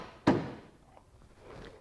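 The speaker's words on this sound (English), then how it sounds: "that would be the door latched" A 2005 Nissan Altima car door latches shut with a single sharp thunk near the start, followed by faint handling noises in a quiet space.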